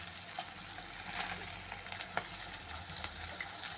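Garlic with chana dal and urad dal frying in oil, a continuous close sizzle with occasional stirring scrapes and small pops, no voices.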